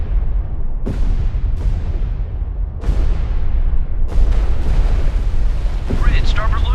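Depth charges from a destroyer hunting a U-boat in the video game Destroyer: The U-Boat Hunter detonate in several loud, deep booms, one after another, each rolling into a long rumbling decay under steady low ambience.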